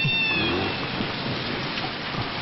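Steady rain falling, a continuous broadband hiss filling the background throughout, with a brief faint animal-like cry near the start.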